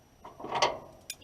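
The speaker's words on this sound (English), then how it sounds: "while I got wrenches here, I think I'm gonna put a little tighten on this thing." Wrenches tightening a battery terminal produce a brief burst of close metallic ratcheting clicks, then one sharp click at the end.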